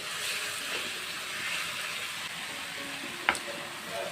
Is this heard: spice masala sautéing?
yes